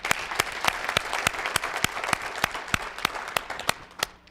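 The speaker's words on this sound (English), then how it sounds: "Round of applause, please." A school audience at a superintendent's address claps in a full, steady round of applause, dense and close with sharp individual claps standing out, lasting several seconds before tapering.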